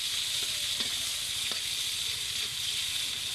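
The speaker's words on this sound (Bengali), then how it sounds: "তারপরে হচ্ছে টমেটো কুচি দিব, এগুলো একটু নাড়াচাড়া করে নিয়ে" Onion and chopped tomato sizzle in a pan, a steady bright frying hiss up close with a few light scraping taps of a stirring spoon, no voices.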